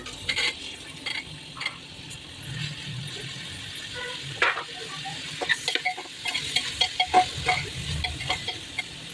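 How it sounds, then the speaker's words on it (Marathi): Oil sizzles steadily as ingredients for tempered rice are sautéed, while a utensil stirs and scrapes the pan in irregular bursts, close and moderately loud, with no voices. "त्यासाठी हे सर्व मटेरियल तेलामध्ये परतून घेतले"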